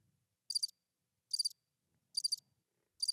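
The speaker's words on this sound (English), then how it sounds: "Let's do a little bit of the crickets." Crickets chirp in four evenly spaced, crisp bursts about a second apart, clear and alone against silence with no voices.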